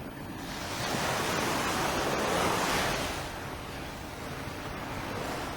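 Ocean surf breaking steadily on a broad, full sandy beach at daybreak, a continuous loud wash of waves that swells to a peak midway and then eases back, with no talking over it.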